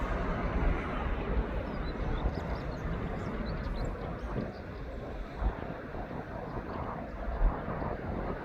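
An airliner taking off at East Midlands Airport makes a continuous broad roar at moderate distance, steady throughout with gusts of wind buffeting the microphone.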